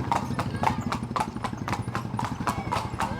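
Horse hooves clip-clopping in a steady rhythm on a farm during training, close and clear, with a short whinny and some voices in the background.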